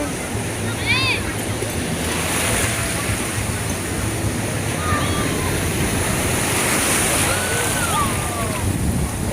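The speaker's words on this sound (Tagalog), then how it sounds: "Yan yung alon." Steady roar of ocean surf washing in, with wind noise on the microphone and a few faint high chirps over the constant rush.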